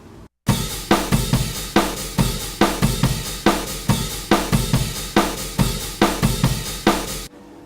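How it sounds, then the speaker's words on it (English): A dry, unprocessed home-recorded drum pattern for a song plays alone: steady kick and snare hits with cymbal wash, in an even, repeating rhythm. "here's the dry drum sound you can hear."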